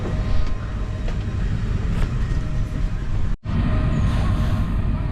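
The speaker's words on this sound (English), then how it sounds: "So our train from the city has come to Carlton-back, and it's about 15 minutes late." Loud, constant low rumble of a moving train heard from inside a carriage, with one brief sudden dropout partway through.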